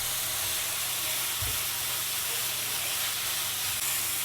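Chicken mince masala mixed and fried in a pan, a steady close hiss of sizzling with faint stirring bumps underneath, continuous throughout.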